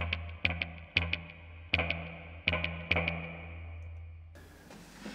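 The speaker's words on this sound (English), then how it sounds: "it does have a reverb on there as well" Guitar notes played in a loose rhythm through a tape delay unit's reverb, each ringing out with a reverberant wash that sustains between strikes before fading into faint noise.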